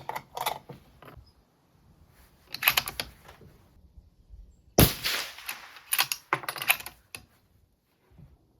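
Sharp, loud 6.5 Creedmoor rifle shots with 130-grain Berger bullets, a few distinct cracks spaced seconds apart with clicks and handling noise between them and no talk.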